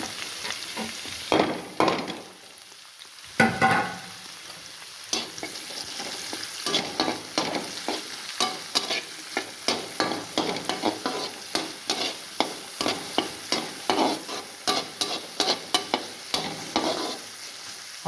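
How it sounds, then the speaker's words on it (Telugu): Onions and green chillies fry in ghee in a pan, a steady crackling sizzle broken by frequent scraping stirs of a spoon, close and fairly loud, with no talking. "ఆనియన్స్ బాగా ఫ్రై అవనియండి."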